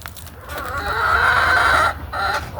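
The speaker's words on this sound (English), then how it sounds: "You can hear the chickens." Neighbor's chickens and roosters clucking in a backyard pen beside a goat lot, a close, continuous chorus of busy clucks that swells through the middle and then eases off.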